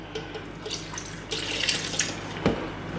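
Liquid is poured while preparing homemade baby food in a kitchen, a steady splashing trickle with brief knocks and clatters, close and moderately loud.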